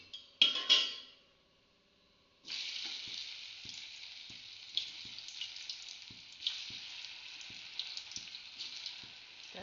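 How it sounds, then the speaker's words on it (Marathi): Food frying in hot oil until crisp: after a brief clatter and a quiet gap, a steady bright sizzle starts and holds, broken by soft knocks of stirring, close and moderately loud. "मस्त खरपूस खरपूस तळ्या."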